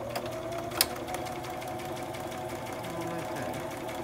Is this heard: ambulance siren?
no